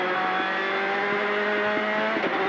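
A rally car drives a forest stage at the 2017 National Capital Rally, its engine a loud, steady drone close by, with a few sharp knocks and a brief rise near the end.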